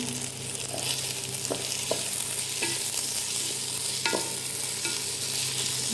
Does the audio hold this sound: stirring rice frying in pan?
yes